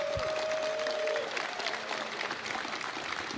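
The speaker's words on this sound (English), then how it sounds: "Everybody, a round of applause for Rich Tyrer," A crowd at a gaming convention watch party claps for a player, a moderate, fairly steady patter of hands with a tone sounding briefly over its start.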